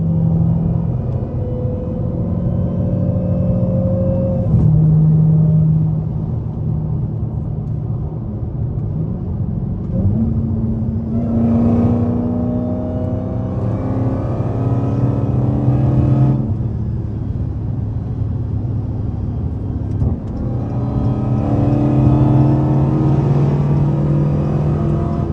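A loud, deep, straight-piped Dodge Hellcat engine idles and rumbles, then revs up in a couple of rising bursts before settling back to a throaty idle.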